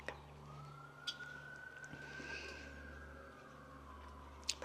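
Police or emergency sirens pass outdoors near mountains, a faint distant wail rising and fading under soft ambient noise, with occasional close clicks.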